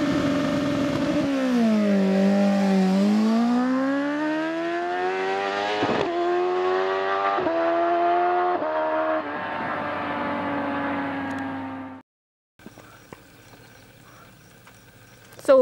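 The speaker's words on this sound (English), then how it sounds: "let's talk about that exhaust because it sure sounds nice" A stock-exhaust motorcycle on a racetrack is heard at close range, its engine note sweeping down and then climbing steadily through the gears for about twelve seconds before cutting off. A quieter mechanical hum follows and ends in a short burst.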